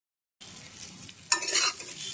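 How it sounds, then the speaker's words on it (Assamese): A spice mixture poured onto cumin seeds in hot oil sizzles and fries over a medium flame, with a sudden louder burst of sizzling midway as it is stirred; no voices. "মিডিয়াম ফ্লেমত অলপ দেৰি ভাজক।"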